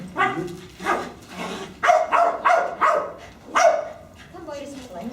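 Dogs at a training class bark repeatedly in close, loud bursts, some quick doubled yaps and higher yips with pauses between, sounding near and dominant.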